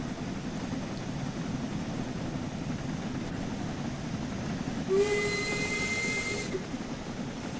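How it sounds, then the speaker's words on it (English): A steam locomotive whistle in Train Sim World 5 gives one sustained blast of about a second and a half over a steady background rumble and hiss of the running engine. "Can I blow this one's whistle too?"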